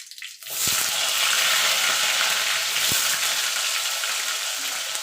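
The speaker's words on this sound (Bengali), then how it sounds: "আলুটা একটু লাল লাল করে ভেজে নেব।" Potatoes frying in hot oil in a kadai after bay leaf and whole cumin tempering, a loud steady sizzle bursting in as they hit the oil and holding on continuously, close up with no talk.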